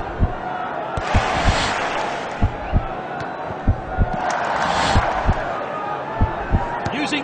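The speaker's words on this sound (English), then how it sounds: "The crowd are willing them on." A stadium crowd roars in the Score! Hero football game, with two loud swells of cheering and sharp ball kicks thudding at intervals under a commentator's voice.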